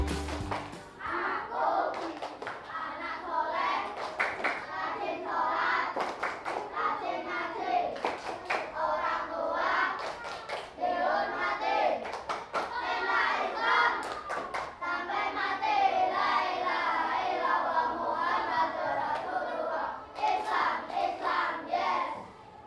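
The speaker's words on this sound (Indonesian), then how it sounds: "Tepuk anak soleh." A class of fifth-grade schoolchildren doing the tepuk anak soleh clapping chant, with rhythmic bursts of group clapping punctuating loud, shouted chanting voices over about twenty seconds.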